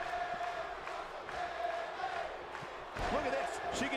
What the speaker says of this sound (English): The crowd really wants Bayley to get something going right now